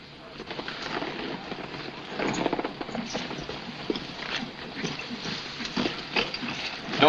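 A horse's hooves clip-clop nearby in an uneven rhythm of soft knocks, faint and close, with wind-like background hiss.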